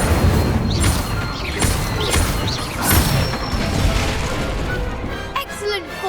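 Magic spell impacts in a Harry Potter video game: a dense run of bursts, crashes and whooshing blasts, loud and close, with a short pause and some fading tonal effects near the end.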